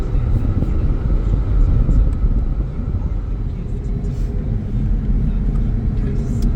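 A 2006 Chevy Equinox driving on the road gives a steady, loud low rumble of engine and road noise throughout, with the broadband drone holding fairly even and no voice on top.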